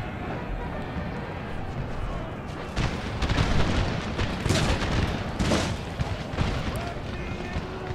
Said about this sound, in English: Three big beastie batteries shooting into him.